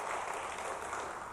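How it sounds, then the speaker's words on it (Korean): A church congregation gives a brief, dense round of clapping during a sermon, a steady wash of many hands at even volume with no voices. "감사의 박수 한번 합시다"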